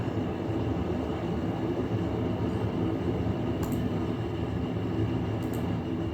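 A train runs in the Transport Fever video game, hauling a mixed consist of European carriages. It gives a steady, continuous low rumble and rolling drone that stays even throughout, with no talk.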